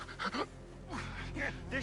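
Ragged panting breaths from a wounded man in Red Dead Redemption 2, a few short gasping pulses close up, with faint background game ambience and some voiced sounds.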